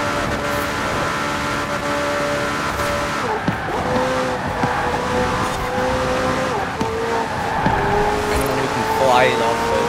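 In the Forza video game, a McLaren Senna's engine howls at full throttle with upshifts and pitch sweeps, loud throughout while someone talks over it.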